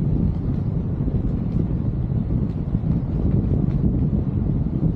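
Steady low rumbling wind buffeting the microphone at sea off Boracay, continuous and fairly loud, with a faint engine-like drone underneath.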